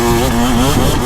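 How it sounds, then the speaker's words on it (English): A 2025 KTM 300XCW two-stroke dirt bike engine holds a loud, steady high-revving drone up close, its pitch wavering slightly as it runs on without pause. "Back on the moto."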